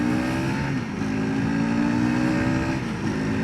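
An FB Mondial SMX125 motorcycle pulls away and accelerates, its small engine droning loud and close with rising pitch through the gears.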